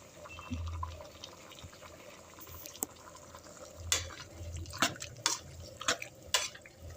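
Washed chicken liver going into a pan, a few wet slaps and splashy drips with short bursts of sizzling, close and sparse against a quiet kitchen background.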